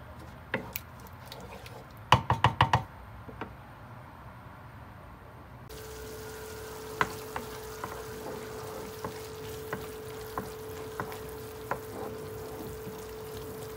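Meat for a tajine with green beans browns quietly in a pan, a soft steady sizzle with scattered pops and a few louder clatters near the start.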